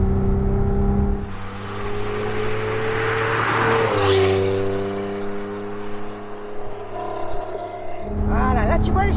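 An Alpine A310 V6 engine hums on light throttle while driving, a steady, close-up rumble with clear harmonic tones that swell slightly and settle. People talk inside the car over it.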